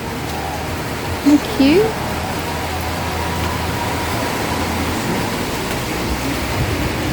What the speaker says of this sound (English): It's pouring down rain, but